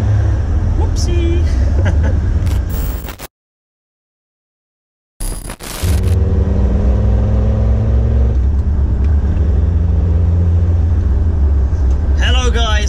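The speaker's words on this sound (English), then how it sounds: "my TD5 is going to make some noise" A Land Rover TD5 diesel engine runs with a steady, close, heavy low rumble that cuts out briefly, then returns and holds at an even level.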